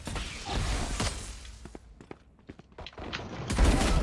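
Valorant match with gunfire: a string of sharp shots and weapon clatter, a quieter stretch of scattered mechanical clicks, then a loud burst at the end.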